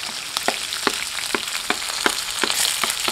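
Green chillies, sliced onions and curry leaves fry in hot oil in a pan, a steady sizzle broken by sharp, regular crackles and pops roughly every third of a second, with no talking.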